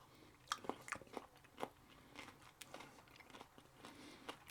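Someone eating a cucumber and courgette salad in natural yogurt with a few drops of Tabasco, with close, soft crunching bites and chewing in irregular bursts, alone and without talk.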